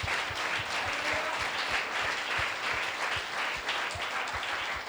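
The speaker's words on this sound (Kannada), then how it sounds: "ಹೊಡೀರಿ ದೇವಸ್ವಾಮಿ ಚಪ್ಪಾಳೆ ಹೊಡಿ ಜೋರಾಗಿ" An audience at a church sermon claps loudly and steadily, a dense, continuous wash of many hands close by, with no voices over it.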